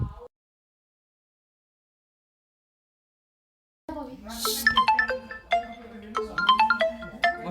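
A phone ringtone sounds during a school musical drama stage performance, entering after a few seconds of silence as a bright, repeating melodic tune that plays loudly and alone.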